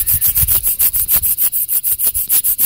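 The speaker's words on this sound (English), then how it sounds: "all I'm doing now is polishing the bevel" A single bevel broadhead being polished along its bevel on a DMT diamond sharpener, giving a steady run of about fifteen even rubbing strokes, close and loud with a gritty hiss, no talking.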